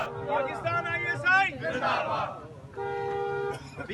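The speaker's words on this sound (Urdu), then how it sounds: "شرکا نے ہاتھوں میں بینرز اٹھا کر پاکستان زندہ باد، پاک افواج زندہ باد کے نعرے لگائے" Crowd at a Pakistan Zindabad rally by a press club shouting patriotic slogans in unison, loud rhythmic chanting voices in bursts with a background hubbub.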